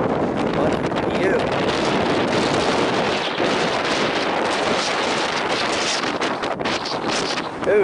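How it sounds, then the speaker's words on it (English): Strong wind gusts buffet the microphone at a Grand Canyon viewpoint, a loud continuous rushing roar with uneven surges. "Amazing wind right here."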